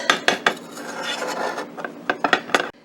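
A utensil scraped around the edges of a baked chocolate cake in its pan, giving rough rasping strokes broken by sharp metallic taps and clicks, close and fairly quiet, in an uneven rhythm.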